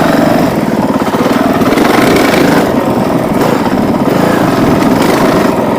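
A Honda CRF450L single-cylinder motorcycle rides a trail in low gear, its engine a loud, close, steady throbbing drone with slight rises and dips in throttle and no talk over it.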